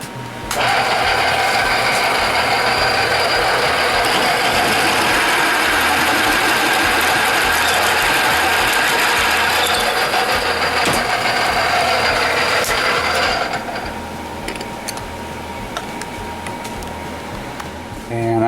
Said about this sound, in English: Let me go ahead and get this drilled out.